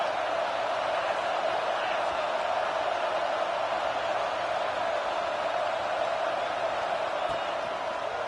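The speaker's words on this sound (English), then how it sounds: "The Buckeye crowd alive on 3rd down." Ohio State football fans fill a stadium with a steady, broad crowd roar during a third-down play, sustained and unbroken with no distinct voices standing out.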